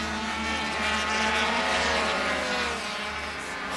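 An 80cc racing motorcycle at full throttle on the Assen circuit in 1985, a high, buzzing two-stroke engine whine held steady and loud, rising slightly as it passes, with no talk over it.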